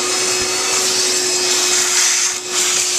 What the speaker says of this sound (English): I'm going to vacuum up any debris that has any chance of getting in that engine.